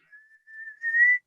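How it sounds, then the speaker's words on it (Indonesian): Someone whistles a single steady tone during an online probability lecture, a clear close note that wavers slightly and grows louder before breaking off, followed by a short final chirp. "Oh, bersiul-siul."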